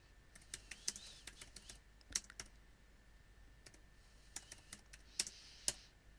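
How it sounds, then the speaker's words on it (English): Quiet, close typing on a computer keyboard, scattered key clicks in irregular small bursts with brief pauses between them, entering search keywords. "You can actually type in more keywords at once."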